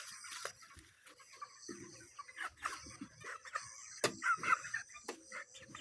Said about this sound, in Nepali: यो मेरो ब्रोइलर कुखुरा आज 30 दिनको भयो।